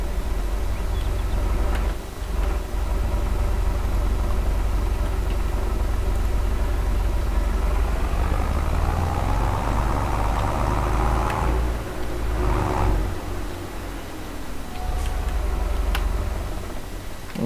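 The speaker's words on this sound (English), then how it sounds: "Nice little tractor." A nice little farm tractor with its small engine idling, close and steady, with a continuous low rumble and a light ticking rhythm throughout, and no talk.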